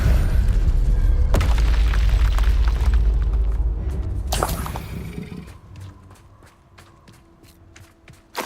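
A spell cast in Hogwarts Legacy, the Expelliarmus charm: a deep, loud boom with a swelling blast and a sharp crack midway, fading into quieter rhythmic footsteps and faint chimes.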